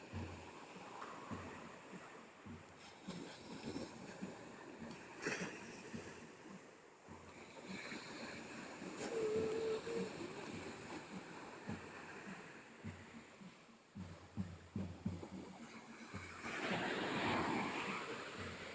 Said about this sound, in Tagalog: So many waves.